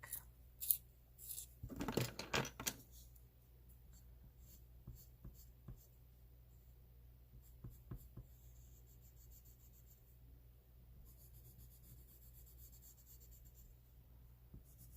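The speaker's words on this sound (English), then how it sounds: "My hand sharpener super quick." A pencil is turned in a small hand sharpener, giving a brief close cluster of scratchy grinding bursts near the start, then quiet rubs and taps over a faint steady hum.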